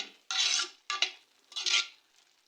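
An ivy gourd stir-fry is stirred in a pan, with three distinct bursts of close scraping and rasping from the utensil against the pan, separated by short pauses, with no talk.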